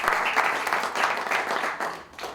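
An audience claps for a team being introduced on stage, the sustained applause swelling and easing in waves, fairly close and full, with no speech on top.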